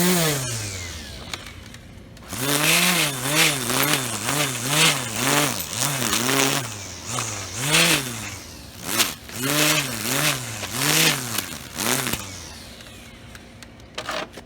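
Small Black & Decker electric string trimmer spinning up and running nearby, a loud whirring motor whose pitch repeatedly rises and falls in wavering surges before winding down, no talk.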